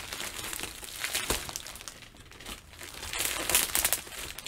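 Two packages taped together being opened by hand, crinkly plastic and paper crumpling and tearing in close, uneven bursts, with no talk.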